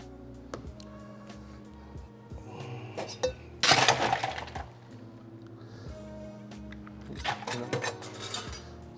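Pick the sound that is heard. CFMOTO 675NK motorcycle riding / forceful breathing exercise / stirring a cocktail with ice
stirring a cocktail with ice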